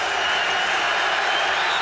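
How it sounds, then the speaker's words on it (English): Football stadium crowd at a CFL game between the Edmonton Eskimos and Saskatchewan Roughriders, a loud, steady roar of cheering and noise filling the whole moment without a break. "Listen to this crowd, Gord."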